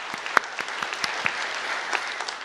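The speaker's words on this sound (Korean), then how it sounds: "우리에게 승리를 계시하나님께 영광의 박수 올려드리겠습니다" A church congregation claps steadily together, a sustained wash of applause with a few sharper individual claps standing out.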